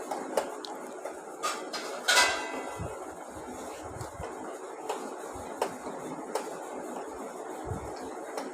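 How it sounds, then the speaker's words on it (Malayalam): A spoon stirs almond milk briskly in a metal pot, giving quick, quiet scraping and light clinks, with a few sharper knocks early on, close up and without talk. "ബദാം കട്ട കെട്ടാതിരിക്കാൻ നല്ല സ്പീഡിൽ ഇളക്കിക്കൊണ്ടിരിക്കണം."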